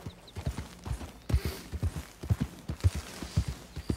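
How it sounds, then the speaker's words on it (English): Horse hooves clop in a steady walking rhythm as a rider moves through the open world of Red Dead Redemption 2. The footfalls are clear and close, with faint creaks of tack beneath them. "This is my horse."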